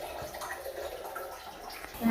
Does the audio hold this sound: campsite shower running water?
yes